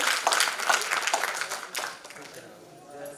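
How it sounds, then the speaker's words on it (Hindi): Audience applause for the actors at the close of a Hindi stage play, Dhruvswamini, rises as a dense, close patter for about two seconds, then thins and fades toward quiet. "जोरदार तालियां हमारे सभी कलाकारों के लिए।"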